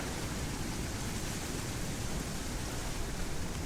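Scattered rain showers fall steadily in the alien-planet whale game South Scrimshaw, a soft even hiss with no distinct drops and no voices.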